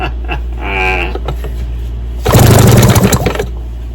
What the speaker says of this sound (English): I got spark, 1/4 inch spark on both sides.